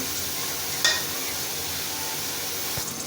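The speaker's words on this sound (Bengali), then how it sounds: "পেঁয়াজটা দিয়ে দেবো" Onion sizzles in hot oil while a chicken curry with coconut paste is cooked, a steady close frying hiss with a brief clatter of stirring near the start and no talking.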